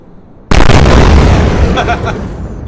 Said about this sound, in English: the photon torpedo went all the way out there and just blew up a big cluster